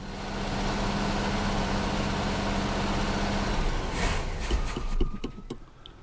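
A 1976 Chevrolet Nova's engine, long unused, runs with a rough, uneven rumble, unable to idle, sputtering and faltering toward the end, with scattered clanks and knocks as it struggles.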